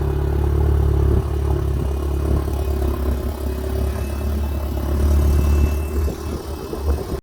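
A tuned Audi S3 fitted with a Garrett G30-900 turbo and a large 4-inch intake idles steadily nearby, its deep engine drone running loud and continuous with a faint turbo whistle riding lightly over it at almost no load.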